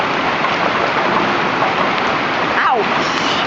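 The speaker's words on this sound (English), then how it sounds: "Oh, it's starting to turn to rain a little." Hailstorm turning to rain over a St. Louis street, heard from inside a garage: a dense, loud, continuous hiss of falling water and pelting drops with no breaks for the full length.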